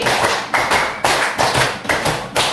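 A primary school class claps a counted rhythm pattern together, sharp group claps landing in evenly spaced clusters about every half second, loud and close.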